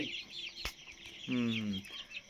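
Chickens in a poultry farm shed give a loud nearby cluck and a drawn-out squawking call over a background of farm noise, with a sharp knock partway through.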